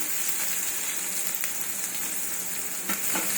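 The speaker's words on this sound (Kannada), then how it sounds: "ನೋಡಿ ಇವಾಗ ಇದು ಚೆನ್ನಾಗಿ ಫ್ರೈ ಆಗಬೇಕು" Chopped onion and garlic frying in a pan for a Kannada mosoppu saaru, producing a steady, close, continuous sizzle with a few faint stirring scrapes.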